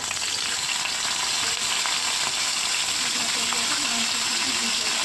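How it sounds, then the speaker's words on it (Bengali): Jiol fish sizzling steadily as it is lightly fried in a pan of hot oil, a dense continuous crackle that holds at an even level throughout. "মাছটা হালকা হালকা করে ভেজে নিয়ে"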